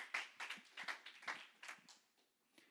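A church congregation at a Saturday youth worship service claps for two people, producing quiet, scattered handclaps in uneven bursts that fade toward the end.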